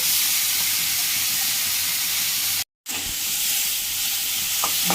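Prawns fry in hot oil in a kadai, giving a loud, steady hiss and sizzle close up, broken by a brief silent gap, with faint stirring clicks.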